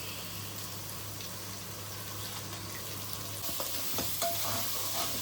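A prepared masala for Andhra-style chicken kurma fries in a pan over ginger-garlic paste, with a steady close sizzle and scraping stirs. The stirring grows busier and louder toward the end, and no one speaks.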